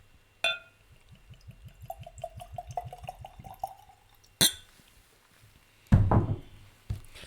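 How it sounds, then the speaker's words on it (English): Blood Oath Pact whiskey poured from a bottle into a glass: a rapid glugging stream rising in pitch as the glass fills, bracketed by sharp clunks of the bottle and glass being set down. "let's pour a little bit of the Blood and Oath"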